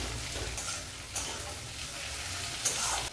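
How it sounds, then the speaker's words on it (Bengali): Onion frying in oil with chopped tomato, garlic and a dried red chili for green jackfruit kalia, a low steady sizzle with a few soft stirring clinks, close but fairly quiet, with no voices. "আমি পেঁয়াজটা একটু ভালো করে ভেজে নিয়ে ফিরে আসছি"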